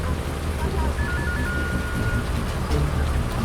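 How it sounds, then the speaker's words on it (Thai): Rain pattering on the cab of a ten-wheel dump truck in the Farming Simulator 19 video game, a steady dense hiss with low rumble heard from inside the vehicle, even and continuous. "อยู่ในรถมันก็ได้เสียงแป๊กแป๊กแป๊กแป๊กแป๊กนะครับ ได้ยินเสียง เวลาฝนตกอ่ะ"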